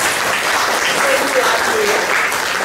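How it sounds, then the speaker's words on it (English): Audience applause closing an academic seminar series: dense, steady clapping from a sizeable crowd, loud and continuous throughout, with faint voices underneath. "I would like to ask us to give a big applause to those who keep on the"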